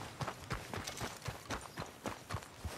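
Rhythmic clip-clop of horse hooves approaching at a steady trot in the video game Red Dead Redemption 2, fairly faint and regular, with no voices.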